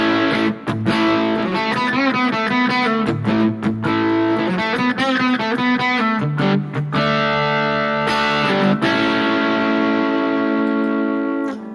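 Electric guitar with Harley Benton Roswell pickups playing a crunch tone, loud and continuous, with distorted chords and single-note phrases ringing out for nearly twelve seconds with no talking.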